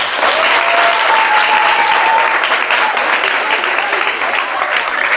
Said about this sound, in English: please give a resounding round of applause for Mr. Godwin Nse